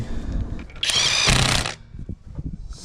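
Skil 3285 XP cordless impact wrench running on its second mode to tighten a car wheel's bolts: one loud burst of about a second, with quieter mechanical handling noise before and after.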